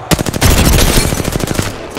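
Rapid gunfire from the Apex Legends battle royale game bursts out loud and close in a dense string of shots across two seconds, with no talk over it.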